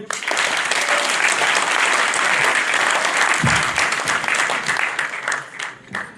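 Audience at a French municipal election meeting applauds a running-mate candidate, a loud close sustained round of clapping that holds strong for several seconds before tapering off near the end.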